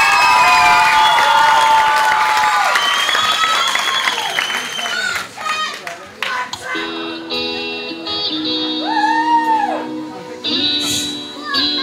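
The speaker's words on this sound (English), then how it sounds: "Give Mike a round of applause," A talent-show audience applauds and cheers for a singer named Mike, a dense burst of clapping and shouting that thins out as music and singing take over.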